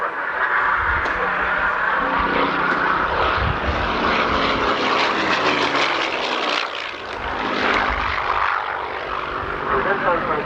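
A Mark 9 Spitfire propeller aircraft built in 1944 roars overhead at an airshow in Newtownards, a loud sustained engine drone that swells and dips slightly as it passes, under a commentator's voice.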